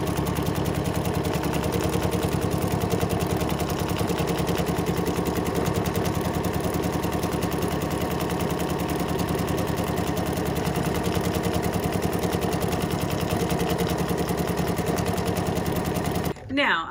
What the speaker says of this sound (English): I am using a pretty awesome Bernina 880 here with the multi-directional stitching